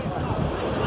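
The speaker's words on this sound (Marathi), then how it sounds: "लाट आहेत रे समुद्राच्या" Sea waves at Rameshwaram rush in a steady, loud wash, heavily blurred by wind buffeting the microphone.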